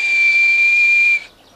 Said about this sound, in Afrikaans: Ek het net nou gefluit.